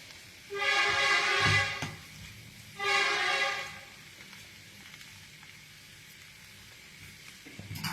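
Sliced onions sauté with whole spices in a hot pan, two loud bursts of crackling sizzle separated by a quieter simmer, heard up close with no talk.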